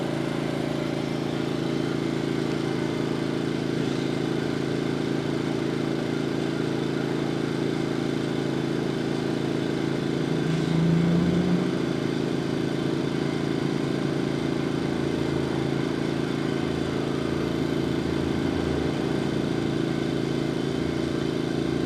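A new portable generator running at a constant engine drone from about 20 feet away, steady and unbroken with a low, even hum and faint mechanical clatter throughout.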